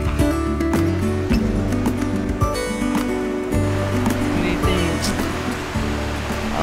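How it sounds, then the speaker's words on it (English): Ocean surf at the Jacking Horse surf spot on Siargao in the Philippines, a steady, continuous wash of breaking waves held at an even loudness over a tonal background hum. "No, waves are looking pretty small here right now."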